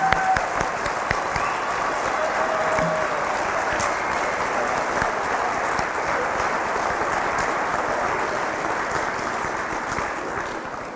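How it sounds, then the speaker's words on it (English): A crowd at a National Honor Society induction ceremony applauds the new members in a long, sustained round of clapping. It stays full and even for about eleven seconds, tapering only slightly near the end. "Please join me once again in applauding all of our new Minnesota Honor Society members."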